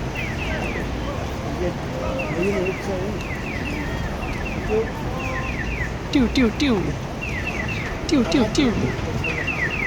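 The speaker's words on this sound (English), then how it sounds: "That chirping sound is played on both sides of the street" Chirping pedestrian crossing signal for blind people on a busy Seoul street, repeated quick chirp pairs in a regular rhythm over traffic noise, with a voice speaking in the background.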